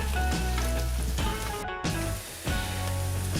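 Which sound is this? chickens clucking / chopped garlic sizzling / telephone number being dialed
chopped garlic sizzling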